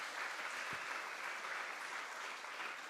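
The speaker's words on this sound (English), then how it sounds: "Let's give them a well-deserved round of applause this morning" An audience at a primary school mental math competition applauds the students, a steady, dense wash of clapping that holds evenly throughout.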